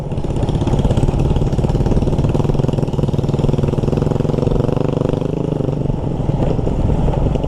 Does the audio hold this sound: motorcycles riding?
yes